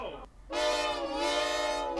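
Phantom Express, a ghost train from the Cuphead video game, gives a loud, sustained tonal whistle-like blast after a brief lead-in tone, holding steadily to the end.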